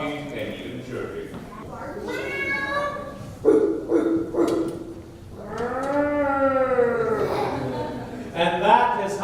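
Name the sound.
voices imitating meowing, barking and chirping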